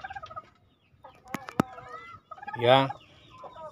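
A brooding hen on eggs gives short clucks and a louder, drawn-out guttural call near the end, close by on a chicken farm, with a brief spoken word from a man.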